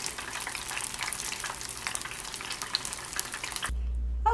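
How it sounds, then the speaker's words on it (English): Battered onion rings frying in hot oil in a home kitchen, a dense, close crackling sizzle that runs steadily for about four seconds before cutting off abruptly. "I'm going to fry these onion rings up"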